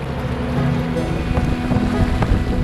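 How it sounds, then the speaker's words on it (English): A sailboat under way on the Gulf off Marco Island, Florida, in a steady breeze: continuous wind and water rush with low hull and wave wash, fairly loud and close, with no voices. "Right now we're out on the Gulf sailing, just finding the wind"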